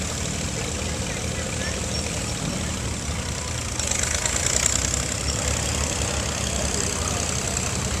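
A 1939 F-20 tractor engine runs at a steady idle throughout, a continuous low mechanical rumble with a slight lift near the middle, heard at an outdoor show with voices faintly in the background.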